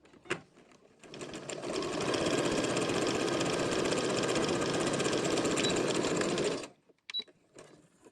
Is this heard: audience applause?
no